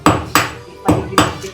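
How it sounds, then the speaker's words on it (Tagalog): A hammer drives nails with four loud, close, evenly spaced strikes, each a sharp knock with a short ring. "Ayan si martilyo mo."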